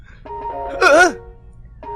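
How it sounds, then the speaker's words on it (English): A phone rings in a visual novel video game, a single short warbling electronic ring burst standing out clearly over quiet background music. "The sudden ring on my phone breaks me out of my thoughts."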